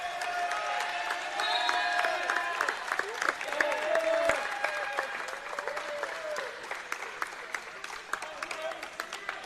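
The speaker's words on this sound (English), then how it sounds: "As the crowd really picked up here." A basketball game crowd breaks into sustained applause and cheering after late free throws, with dense clapping and whistles filling the gym and a commentator talking over the noise.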